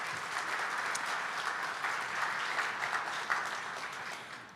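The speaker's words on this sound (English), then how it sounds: "Let's give another round of applause." Steady applause from an audience at a morning district event, an even wash of many hands clapping at moderate volume with no break.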